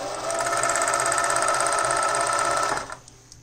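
A Singer Patchwork 7285Q sewing machine runs while being threaded, a loud, fast, even mechanical chatter for nearly three seconds before stopping abruptly.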